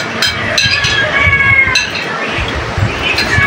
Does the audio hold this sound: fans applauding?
no